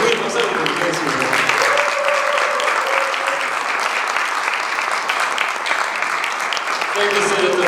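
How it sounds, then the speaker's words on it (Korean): Sustained audience applause at a Korean community gathering, a dense wash of many hands clapping steadily throughout, with some talk faintly audible underneath. "우리 장로 사회에게 큰 박수를 드리겠습니다."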